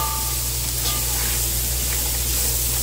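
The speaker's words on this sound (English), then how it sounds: "all that bacon in there with those bacon bits and a little bit of the residue of the bacon grease, we just kind of get this all stirred up" Bacon bits and leftover bacon grease crackle and sizzle in a pan while being stirred, with a steady close hiss and faint scraping over the three seconds.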